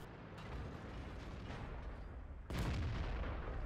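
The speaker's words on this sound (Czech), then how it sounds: "Dělo." A tank cannon fires in the video game World of Tanks: a heavy, booming blast rolls out over dense rumbling battle noise, with a second loud surge partway through, and no talking.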